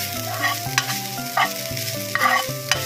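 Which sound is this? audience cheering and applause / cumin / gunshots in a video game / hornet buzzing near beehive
cumin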